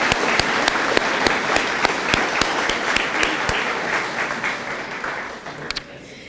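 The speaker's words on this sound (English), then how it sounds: "let's give them a round of applause" Applause at a community tourism awards event, steady dense clapping from a crowd for about six seconds, tapering off at the end.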